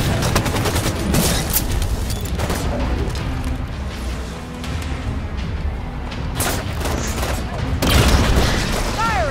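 Halo 5: Guardians combat with heavy in-game gunfire, rapid automatic bursts and booming explosions overlapping loudly throughout, mixed with shouted voices and battle chatter.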